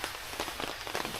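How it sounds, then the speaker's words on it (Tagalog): Heavy rain pours down on a campsite. The steady, dense patter is dotted with sharper drops that sound like they are hitting a tent or tarp, and no voices are heard. "Malakas pa yung ulan."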